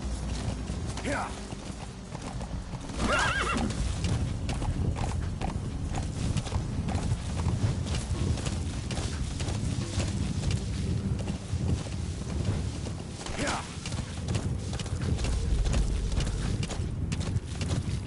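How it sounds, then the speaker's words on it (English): Horse hooves clip-clopping steadily on the ground in the Metal Gear Solid V: The Phantom Pain video game, with wind in the background and a few brief whinny-like calls, continuous throughout. "Use your horse."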